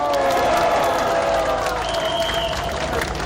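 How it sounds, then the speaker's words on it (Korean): Crowd at a Our Republican Party political rally in Chuncheon breaks into loud, sustained applause and some cheering, dense clapping filling the whole stretch. "박수 한번 주세요."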